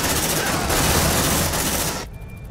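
Loud, dense automatic gunfire in Aliens: Dark Descent, a rapid continuous burst of shots close up that cuts off abruptly near the end, leaving a quieter background.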